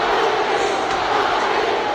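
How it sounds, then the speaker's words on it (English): A huge boxing arena crowd at Madison Square Garden roars during the Ali–Frazier rematch, a dense continuous wash of chanting voices with no break. "you can hear the chant in the background"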